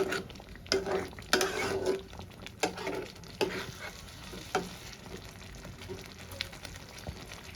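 Rohu fish cooking in a pan with spice paste over a raised gas flame, loud sizzling broken by repeated scraping stirs and utensil knocks in an uneven rhythm, close up.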